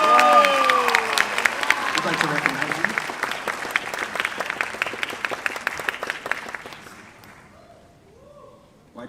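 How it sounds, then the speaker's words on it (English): Graduation ceremony crowd clapping for salutatorians coming to the stage, dense applause with some cheering early on, thinning steadily until it stops, with someone speaking briefly at the start and again at the end. "Why'd you stop clapping?"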